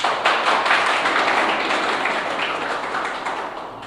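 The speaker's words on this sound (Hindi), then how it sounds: "चलो इसके लिए तालियां बजाओ तुम सारे" Students in a classroom clap together in sustained, fairly loud applause that holds steady for several seconds and slowly eases off near the end.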